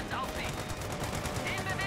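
Battlefield gunfire in Company of Heroes 2 crackles continuously through the clip, a dense spread of shots and bursts at a steady level with faint chatter underneath.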